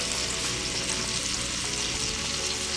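Juicy Lucy burgers fry on a buttered iron skillet, giving a steady, loud, close sizzle that fills the whole stretch without a break and with no voices.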